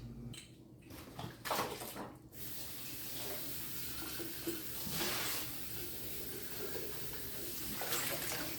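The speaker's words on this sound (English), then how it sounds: "I'm going to get my jars washed" Canning jars being washed under a running kitchen tap in a homestead kitchen: a steady, continuous rush of faucet water, close and fairly even in level throughout.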